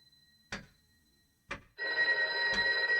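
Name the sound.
telephone ringing in video game Loretta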